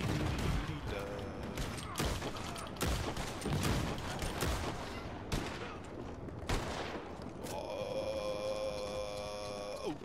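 Gunfire from the video game Red Dead Redemption 2 comes as several sharp, loud shots spread irregularly over the span, close up, with a mechanical clatter and ringing tones near the end.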